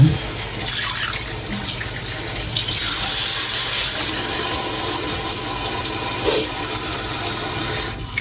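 Tap water runs steadily as a radish is washed in a kitchen sink, a loud continuous rushing splash throughout, with brief shifts in the flow.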